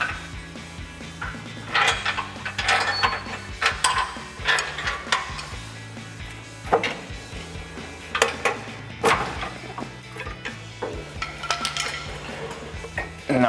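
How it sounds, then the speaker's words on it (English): Tools removing the remaining bolts from a Ford Bronco's stock cat-back exhaust underneath the vehicle, with repeated ratchet clicks and metallic clinks and scrapes in irregular bursts, close by in a quiet garage. "We're gonna pull those remaining bolts out. We've got one on each corner left."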